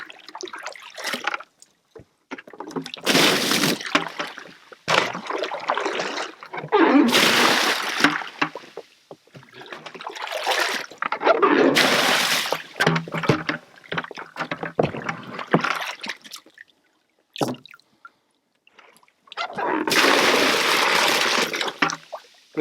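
Water sloshes and splashes in a saltwater bath aboard a boat on a flat ocean, in repeated loud, close bursts separated by quieter gaps, with occasional voices.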